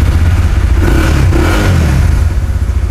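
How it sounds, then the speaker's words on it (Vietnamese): Honda Winner V2 motorcycle, a 2020 ABS model, with its engine running steadily and revving up briefly, loud and close throughout with no talking. "Máy nổ còn rất là chắc luôn anh em"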